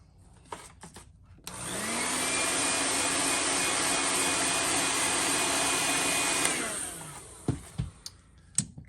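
A heat gun heat-sets paint on a custom-painted fishing lure, switching on with a loud steady whooshing roar and a rising whine, running about five seconds, then winding down into small handling knocks and clicks.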